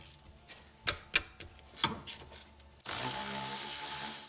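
A ratchet clicks in several quick bursts while loosening 14 mm rear brake bracket bolts on a 2009-2013 Subaru Forester, close and fairly faint, followed by a steadier mechanical whir.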